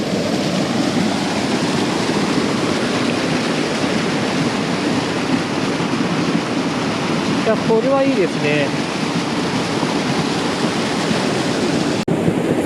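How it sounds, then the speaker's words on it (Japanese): Water rushes steadily at a small waterfall, a loud continuous broadband roar filling the whole clip, with a voice briefly speaking over it midway. "多分水の音がうるさいと思うんですけども"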